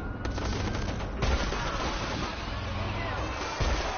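Rapid sniper and automatic gunfire in the video game Watch Dogs, dense continuous shots over muffled game background, with a player's voice speaking over it.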